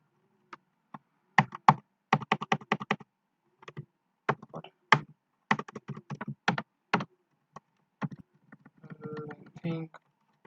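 Typing on a computer keyboard while coding in Java, with irregular clusters of crisp, close keystrokes separated by short pauses and a quick flurry near the end.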